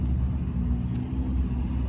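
A turbocharged race truck at a grudge race event idles on wastegate boost, giving a steady, close, deep engine rumble with a faint whine above it, heard alone without talk.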